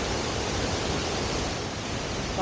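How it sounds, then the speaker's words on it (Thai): Tad Yeuang waterfall rushes as a steady, dense roar of falling water, heard from above the falls, loud and continuous with no voices. "ที่ตอนนี้เราก็มาอยู่ที่น้ำตกตาดเยือง อันนี้คือจะอยู่ด้านบนของน้ำตกค่ะ"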